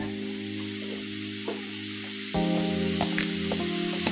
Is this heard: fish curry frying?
yes